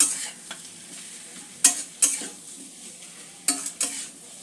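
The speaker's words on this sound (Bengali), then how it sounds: "মশলা দিয়ে আলু আর পেঁপেটা আমি ভালো করে 2-3 মিনিট কষিয়ে" Potatoes and papaya being stir-fried with spices in a pan, a soft sizzle underneath with several sharp scraping and clinking strokes of a spatula against the metal, spaced irregularly and fairly close.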